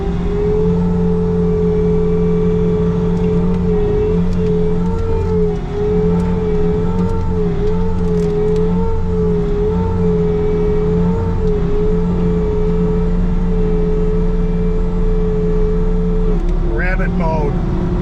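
A Bobcat T66 skid steer loader with a combination bucket runs steadily while moving dirt, its engine a loud, constant drone with a steady whine and a brief rev near the end.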